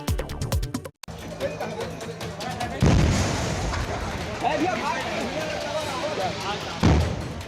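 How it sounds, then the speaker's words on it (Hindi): Several heavy booms and bursts as more than ten gas cylinders explode one after another, loud and near, with a steady roar of fire and faint crowd noise between blasts. "यहाँ एक नहीं बल्कि 10 से ज्यादा सिलेंडर फटे हैं।"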